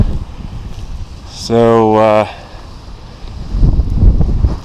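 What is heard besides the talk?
strong wind on volcano slope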